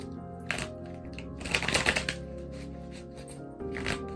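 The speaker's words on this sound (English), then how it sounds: "I'm going to do my last shuffle." Tarot cards being shuffled close by, quiet riffling bursts and soft flicks in a few short runs over a low steady hum, no talking.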